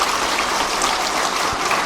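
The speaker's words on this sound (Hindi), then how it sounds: "एक बार उनके लिए भी जोरदार ताली बजाई जाए" Steady applause from a school audience at a celebration of Ahilyabai Holkar's 300th birth anniversary, a dense continuous wash of clapping throughout without pauses.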